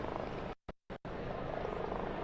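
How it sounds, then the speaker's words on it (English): Helicopters hover over St. Peter's Square as a new pope is named, a steady broad rotor-and-engine roar filling the air, briefly cut out by a few gaps of near silence before resuming at constant loudness. "And you can hear the helicopters."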